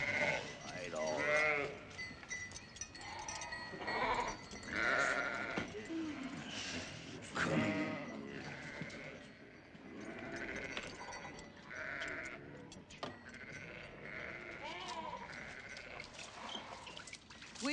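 A flock of sheep and goats gathered at a desert well, bleating over and over in overlapping cries, close and fairly loud, with water trickling and pouring in the background.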